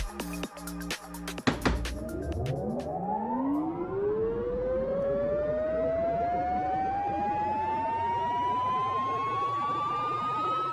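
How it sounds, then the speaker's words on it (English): A short button click for a game's music system is followed by a long, smooth rising tone that climbs steadily for several seconds and holds a sustained, siren-like sweep until the end. "it will play a sound effect, which is a click with a very long riser afterwards"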